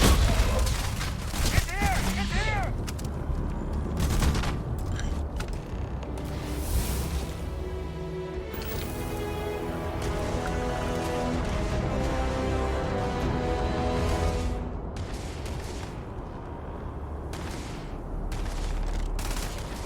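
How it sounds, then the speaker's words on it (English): Gunfire in the space RPG Starfield: steady bursts of shots and rattling fire through a firefight, loud and close, with booming impacts and people talking over it. "Is he shooting at me?"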